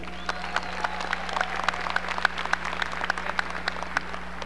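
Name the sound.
audience applause for a graduation speaker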